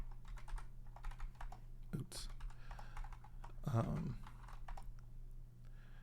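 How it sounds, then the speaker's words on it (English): Typing on a Kinesis Advantage 360 split ergonomic keyboard, a fast irregular clatter of key presses close up, with someone briefly speaking over it. "And please forgive the typing."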